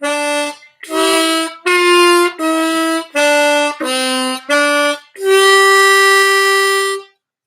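A diatonic harmonica plays the Ode to Joy melody as a run of seven short, clear reedy notes separated by brief gaps, ending on one long held note, close and alone.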